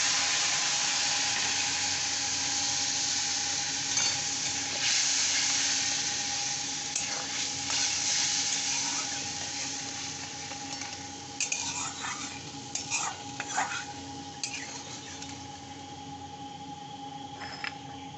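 Masala sizzles and fries in a pan after water is added, the hiss steady and bright while a spoon stirs and scrapes with intermittent clinks toward the end.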